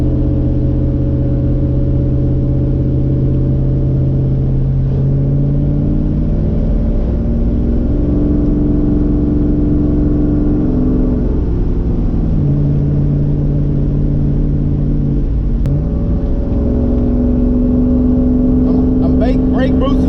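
Nissan 240SX with a turbocharged LQ9 V8 driving from inside, a loud steady engine drone that shifts pitch as it speeds up and eases off, with a constant deep rumble.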